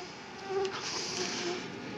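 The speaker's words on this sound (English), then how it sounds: "Yosemite is infamous for its ferocious mosquitoes that thrive in the melting snow." Mosquitoes buzzing in snowmelt country in Yosemite, a steady, close insect whine that swells slightly midway and holds for the whole two seconds with no voices.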